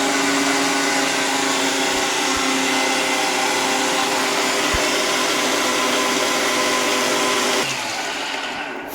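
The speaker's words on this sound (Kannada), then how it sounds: "ಮತ್ತೆ ರುಬ್ಬೋ ಕೆಲಸ." A mixer grinder runs hard, grinding a watery spice paste for fish curry with a loud, continuous whirring drone that holds steady and then winds down near the end, with no talking.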